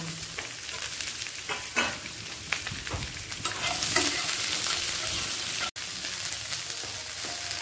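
Onions, tomatoes and three green chilies frying together in a pan, a steady loud sizzle with stirring scrapes running throughout, no voices.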